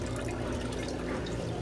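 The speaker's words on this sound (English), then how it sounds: "So the pump is still pumping." A KUPPET compact twin tub portable mini washing machine's pump draining water, a loud steady gushing and splashing flow with a low churning rumble, continuous and close.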